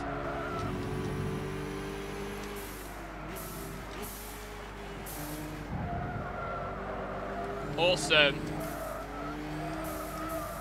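Race cars in Gran Turismo 6, including a Mitsubishi tarmac rally car, drone past on a circuit with steady engine hum, brief tire squeal and scattered whooshes while someone comments briefly.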